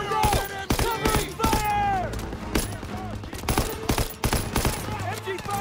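Sustained covering gunfire from machine guns and rifles in a Call of Duty WWII battle at Hill 493, dense bursts and single cracks under shouted voices.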